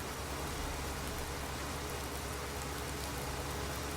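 Steady rain falling in the farming game Farming Simulator 19, a continuous broadband hiss of drops on surfaces with no pauses, even and moderately loud throughout.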